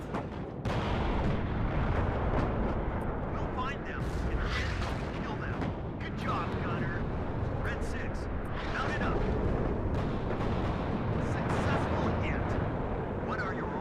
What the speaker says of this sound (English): That is being hit by artillery, but it's not doing too much damage